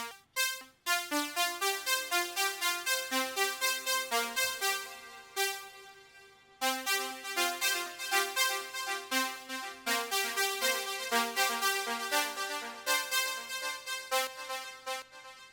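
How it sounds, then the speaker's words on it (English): Layered synthesizer voice from a VCV Rack modular patch, treated with reverb and delay, plays a steady stream of bright sequenced tones with a short pause midway, loud and alone with no talking. "now I'm going to add some reverb and some delay to that to thicken it out."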